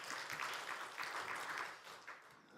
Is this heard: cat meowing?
no